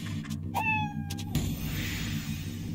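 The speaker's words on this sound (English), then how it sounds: "Oh, another cat." A cat in the video game Fallout Shelter gives a single clear, drawn-out meow, close and prominent over a low rumbling background bed.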